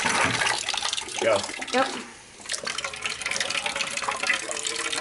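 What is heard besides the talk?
water gushing from a cut pipe during filter install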